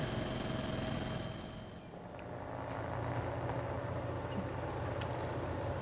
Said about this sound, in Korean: 헬기도 지금 5대 정도 취재 경쟁을 벌이고 있습니다